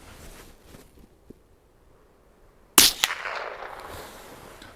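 A single sharp, loud .22LR gunshot cracks out after a quiet stretch, followed by a short ringing decay and a smaller second impact.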